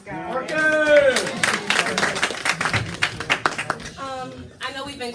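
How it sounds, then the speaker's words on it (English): Audience clapping at a youth slam poetry event, a loud sustained wash of applause with cheers and whoops layered through it, fading out as a voice starts to speak near the end. "I know we've been clapping a lot"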